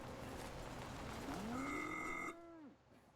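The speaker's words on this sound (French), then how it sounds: "C'est une vache?" A cow in a French adventure video game gives a long, rising then falling moo, loud and close, that stops abruptly, with no voices.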